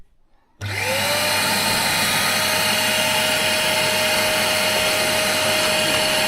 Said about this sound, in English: I can hold like this and you can vacuum everything.